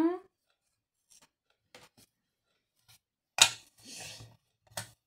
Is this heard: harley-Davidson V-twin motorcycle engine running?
no